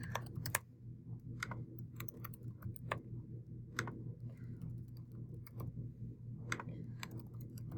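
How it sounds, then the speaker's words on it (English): Computer keyboard typing clicks away in quick, irregular bursts of keystrokes as answers are entered, close and fairly quiet over a low steady background hum. "this is where I'm going to type in all of the possible answers"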